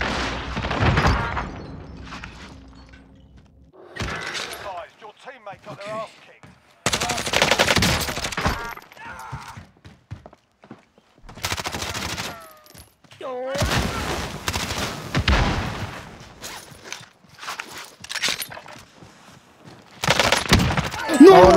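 Gunfire in the Warzone battle royale game, repeated bursts of automatic fire and single shots in irregular clusters, loud and close, with players talking between and over the shooting.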